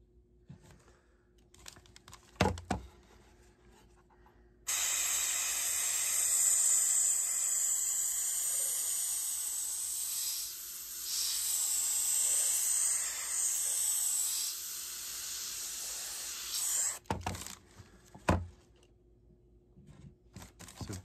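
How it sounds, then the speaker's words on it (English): An airbrush blasts Fuller's earth dust off a weathered prop: a steady, close hiss of air runs for about twelve seconds, with short knocks and handling sounds before and after it. "when you blast it with the airbrush, you actually see what's really there"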